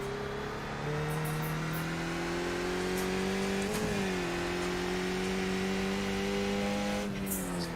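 Race car engines at a Skip Barber race, droning steadily at moderate volume, pitch rising and falling slightly as cars cross the finish line, heard alone without speech.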